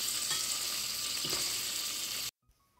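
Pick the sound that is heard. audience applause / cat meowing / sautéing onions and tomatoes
sautéing onions and tomatoes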